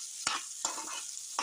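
Jackfruit pieces sautéing in ghee in a pan for jackfruit payasam, with three distinct scraping stirs over a soft, continuous sizzle.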